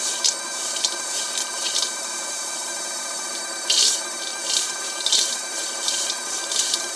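An Aieve snack coater spins a batch of chocolate-coated almonds, giving a steady whirring hum with soft, irregular bursts of tumbling and rattling as the nuts roll over one another.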